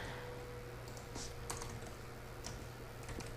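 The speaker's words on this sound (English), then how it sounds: "let me type that on here too" Typing on a computer keyboard during an internet marketing webinar, soft scattered keystrokes with a few sharper clicks over a steady low hum and room noise.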